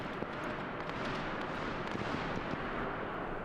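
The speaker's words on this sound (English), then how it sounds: "So, lots of gunfire being heard." Dense, continuous battle noise in Arma 3 set in the 1939 Winter War, sustained rumbling gunfire and distant booms layered into a thick, unbroken wash at steady loudness.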